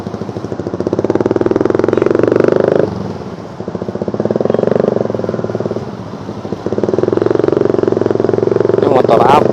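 A motorcycle engine passes on a busy commuter road between Bekasi and Jakarta, a rough, clattering rumble that swells, fades and swells again in three waves while someone talks over it.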